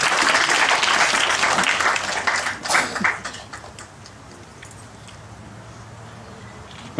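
A temple audience at a spiritual discourse in Fairfax, Virginia gives a loud burst of applause that lasts a few seconds, then thins out and fades into quiet room tone.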